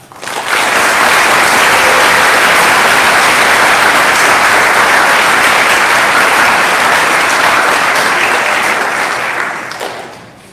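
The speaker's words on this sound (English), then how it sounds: "Please join me in a round of applause for Hunter, Isaiah, Asa, and Cara." An audience at a high school honors night breaks into sustained applause, a loud dense wash of many hands clapping that swells quickly, holds steady for several seconds and then fades out.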